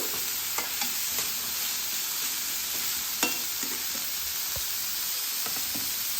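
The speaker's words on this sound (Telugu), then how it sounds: "ఈ బీట్రూట్ ముక్కలని ఒక ఐదు నిమిషాలు మగ్గనివ్వాలండి ఆయిల్లో" Beetroot pieces fry in oil with a steady, even sizzle and hiss. Occasional sharp pops and crackles break through the continuous frying noise.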